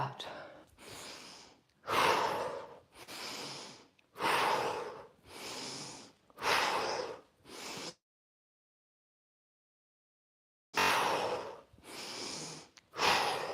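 Deep breathing during a yoga exercise: loud, close in-and-out breaths in a steady rhythm, about ten of them, then several seconds of silence before the breathing starts again.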